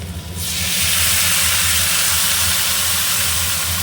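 Water poured into a hot pan of bitter gourd chorchori with potato, onion and eggplant, setting off a loud, sustained sizzling hiss that swells quickly and holds steady close up.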